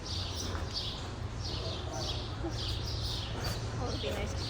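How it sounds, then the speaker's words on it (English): Birds chirp outdoors near a garden centre, repeated short high twitters in bursts over a steady low hum of traffic or machinery, with faint talk in the background. "Do you guys hear the birds?"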